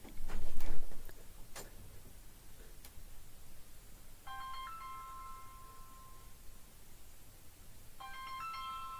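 A phone goes off during a stream with two short bursts of an electronic ringtone melody over a steady background hiss, after a few sharp clicks.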